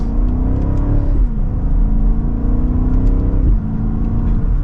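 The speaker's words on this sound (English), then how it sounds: "Hopefully you can hear that exhaust" A 2025 BMW X7 M60i SUV engine revs up hard through the exhaust from second gear, rising in pitch, briefly dropping at a gear change, then climbing again, loud and close.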